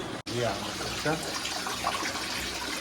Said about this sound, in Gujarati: પાણી 9 વાગી ગયા, હજી ચાલુ જ છે